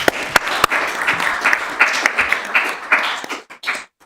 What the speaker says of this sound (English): So let's give Eileen Fogarty a round of applause.